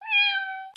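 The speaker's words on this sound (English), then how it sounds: "Cat." A single clear cat meow, drawn out and tonal, close and alone, ending with a brief rustle.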